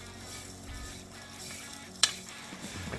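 Panko breadcrumbs, grated parmesan and chipotle powder being stirred together in a bowl: a soft, steady granular rustle with one sharp click near the end, no voices.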